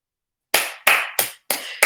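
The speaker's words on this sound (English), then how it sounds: "Round of applause to everyone." Five sharp, separate hand claps ring out in quick succession after a short silence, each fading fast, more like a few scattered claps than sustained group applause.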